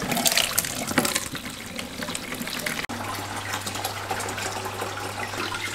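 Steady, loud gush of regular tap water pouring into a fish tank, continuous splashing over a low hum, with a brief break midway before the flow resumes.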